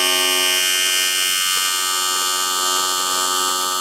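A cutting tool slices through a cast 90-degree pipe bend destined for a turbocharged Hayabusa-powered Raptor build, giving a loud, steady high-pitched whine with a harsh buzzing tone that holds throughout.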